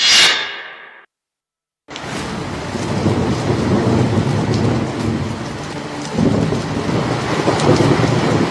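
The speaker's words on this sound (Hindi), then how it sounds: "जहां रात के अंधेरे में ऐसी खतरनाक बारिश हुई" Heavy nighttime rain pours steadily in Tokyo during a thunderstorm, a loud continuous wash with a deeper surge partway through, following a brief sharp sound and a moment of silence at the start.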